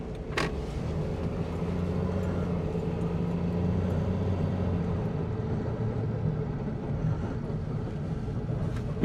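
Steady road traffic and car engine rumble inside a vehicle driving through central Paphos on a Saturday mid-morning, a continuous low drone with no talk.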